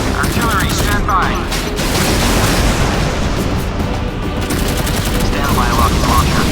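Naval weapons fire in the Modern Warships video game roars as dense, overlapping bursts of gunfire and booms, loud and continuous throughout, with faint radio-style voice chatter mixed in.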